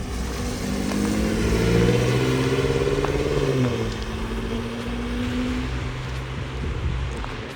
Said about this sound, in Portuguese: Meus carros favoritos, um dos meus sedãs favoritos. Olha ele passando aqui, ó.